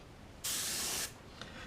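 An airbrush fogs blue-gray paint onto a chain in one steady, close hiss of about half a second, followed by a tiny brief puff.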